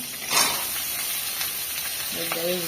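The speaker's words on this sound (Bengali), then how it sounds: "এই কাঁকরোলটাও আলুটাও একটু ভেজে নিই" Pointed gourd and potatoes frying in a pan, with a steady close sizzle and hiss throughout, a brief louder burst early on, and a voice talking over it near the end.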